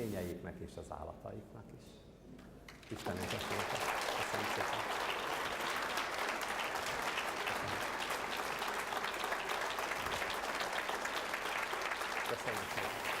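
Sustained audience applause after a horticulture talk, a dense, loud, even roar of clapping that breaks in after a few seconds of speech and continues steadily to the end.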